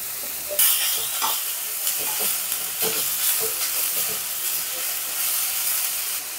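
Grated amla (Indian gooseberry) frying and sizzling in hot oil for pulihora, a steady hiss with soft stirring clinks and scrapes close by, no voices.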